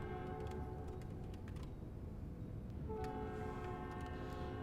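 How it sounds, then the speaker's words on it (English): A loud train in American Truck Simulator rumbles steadily, its horn sounding sustained tones, with keyboard tapping faintly audible over the top. "It's a loud train."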